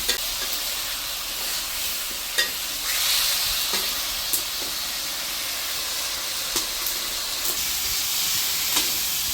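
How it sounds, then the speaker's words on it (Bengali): Potatoes and pointed gourd stir-fry in a cooked spice paste, a constant close sizzle and hiss broken by sharp spatula scrapes and knocks against the pan at irregular intervals. "এখন এর ভিতরে আমি আলু এবং পটলটা একটু কষাইয়ে নেব।"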